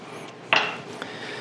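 An egg goes into a bowl of banana bread batter with melted butter and sugar, making one soft clink against the bowl followed by a faint trailing rattle.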